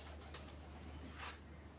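A pigeon gives soft, faint cooing calls over a low steady background hum, with one brief brighter sound near the end.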